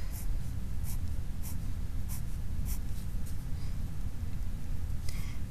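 Pen strokes sketch two bar diagrams by hand on paper, a run of soft, close scratching and brief squeaks over a steady low background hum, with no talking.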